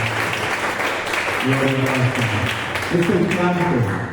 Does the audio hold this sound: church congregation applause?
yes